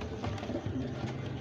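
High-flyer pigeons coo softly in a loft in Lahore, a low, steady murmur of overlapping calls with no clear breaks, close by and fairly quiet.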